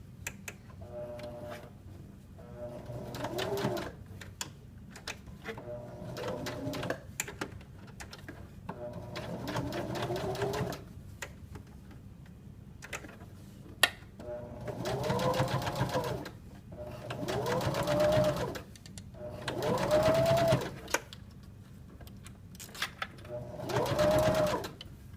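A sewing machine stitches a zipper onto a sweatshirt in repeated close bursts of rapid stitching, broken by short pauses and a few soft clicks between runs.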